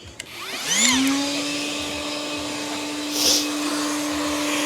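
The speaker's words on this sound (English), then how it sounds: "I'll go and get a dust extractor and show you when we set it up" A dust extractor starting up with a rising whine, then running as a steady, close, loud hum with airy suction noise and a brief surge partway through.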